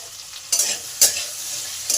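Mixed vegetables stir-fry with salt and turmeric for a red amaranth chorchori: a low sizzle broken by three quick, bright scraping stirs.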